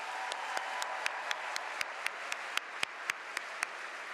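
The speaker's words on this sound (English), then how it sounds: "Let's get another round of applause for your student speaker." Graduation ceremony audience claps for a student speaker, a steady wash of applause with sharper individual claps standing out at regular intervals, moderately distant and sustained throughout.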